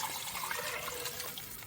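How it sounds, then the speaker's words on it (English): Eight cups of water pour into a pot for Mexican turkey meatball soup, a soft continuous rushing and splashing that stays steady and fairly faint throughout, with no one talking. "Now I'm going to add some water. This is 8 cups of water."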